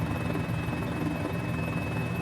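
A Mini-500 light helicopter flies over Easter Island, its rotor producing a continuous steady buzzing drone with a thin high whine running through it, fairly close and even, with no talking.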